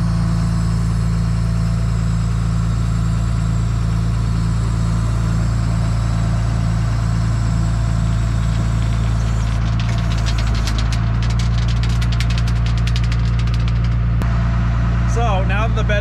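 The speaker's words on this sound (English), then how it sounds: "And now we'll bring the bed down." A rollback tow truck idles loudly with a deep steady engine drone while its bed is lowered, joined partway through by whining hydraulic and rattling mechanical noise, with someone talking over it.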